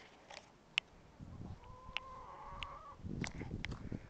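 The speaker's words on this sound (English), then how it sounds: "let me see if I can scare the chicken out of there" A chicken in a run gives a few short, sharp clucks and squawks, fairly close and sparse, over soft rustling and shuffling movement.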